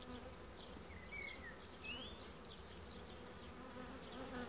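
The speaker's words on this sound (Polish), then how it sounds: "Chyba idzie na burzę, bo są pszczoły dosyć agresywne." Buckfast honey bees buzz around an open hive in a steady, faint drone, with individual bees whining past close by now and then.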